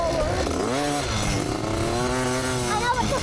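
Dirt bikes ride on a motocross track, with several engines whining and revving at varying pitches, some rising and falling as bikes pass, continuous and fairly close, with faint voices mixed in.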